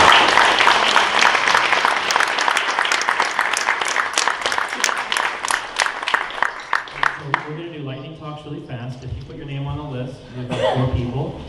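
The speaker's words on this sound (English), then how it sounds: "huge round of applause for Martin" An audience gives a big round of applause for Martin Davidson at an evening event, a dense burst of clapping that thins into scattered claps and fades as a voice begins speaking and light chuckles follow.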